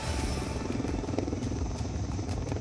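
A light combat helicopter flies overhead, giving a steady rotor drone with a rough buzzing texture that holds at an even, moderate level throughout.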